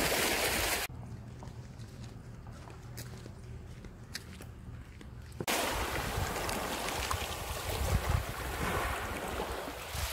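Sea waves washing onto a stony beach on the Ionian coast of Calabria on a calm early morning, a steady broadband wash with wind buffeting the microphone, the surf growing fuller and louder in the second half.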